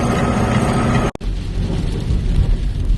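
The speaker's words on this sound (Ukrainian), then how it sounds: "дощ продовжується" Steady rain pouring over a farm field of winter wheat in May, a dense loud hiss with a low rumble of thunder, briefly cut by a sharp dropout before resuming.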